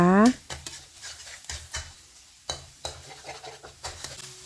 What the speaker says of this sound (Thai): เราก็ผัดไข่ให้สุกนะคะ